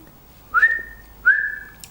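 A person whistles two short rising-then-level notes, close and clear, separated by a brief pause against near silence.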